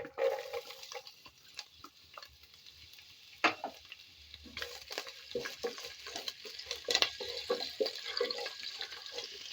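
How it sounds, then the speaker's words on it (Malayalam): Garlic and ginger sizzle in a hot pan while being stirred for egg fried rice, a steady frying hiss with scattered scraping taps of the spatula, close and fairly quiet. "ചൂടായി വന്നിട്ട് നമുക്ക് വെളുത്തുള്ളി ഇഞ്ചിട്ട് കൊടുക്കാം"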